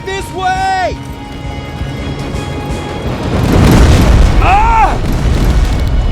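Rocket blasts in the shooter Terminator Resistance build into a loud, rumbling roar midway, with booming impacts under dense battle noise, while short shouted voices cut in near the start and again later.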